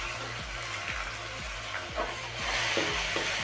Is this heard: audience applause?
no